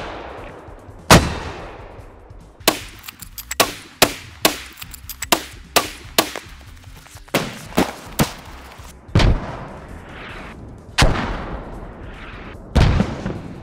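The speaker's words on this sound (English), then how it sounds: "let's adjust our mortar to what the calculator tells us. Alright, let's fire" Mortar rounds fired in a video game, a long series of sharp booming shots in irregular succession, some close together and others spaced seconds apart, each with a short decaying tail.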